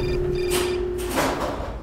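Inside the mines in the adventure game Syberia, a cell phone rings with an electronic tone, a short ringing burst followed by a brief rustling shuffle, fairly close and alone.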